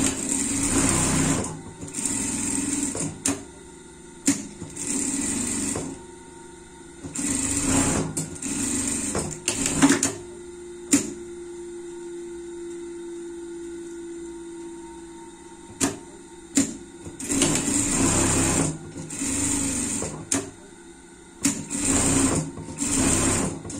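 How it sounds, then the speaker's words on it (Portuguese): A sewing machine stitches a cow-themed pet costume hood in several loud bursts of rapid mechanical whirring, separated by quiet pauses and handling noises. "Vamos passar uma costura aqui."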